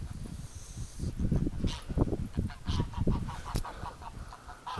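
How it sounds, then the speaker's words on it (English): Outdoors in winter, a goose hisses and honks at a dog, giving a continuous rough, raspy stream of sound with repeated harsh bursts at close range. "A goose is hissing at Doug."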